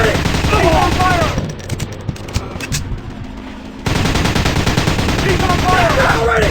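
Rapid bursts of gunfire from the Commando Strike video game, loud and dense, with a brief quieter lull in the middle before the shooting resumes at full intensity.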